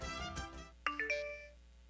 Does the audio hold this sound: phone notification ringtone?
yes